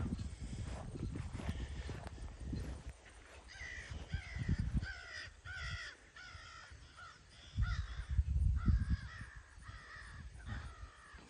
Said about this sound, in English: Birds are starting to go a little nuts in here.